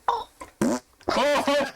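Cat farts imitated by voices: a string of short, wet, buzzing raspberry bursts made with the mouth, loud and close, with uneven gaps between them.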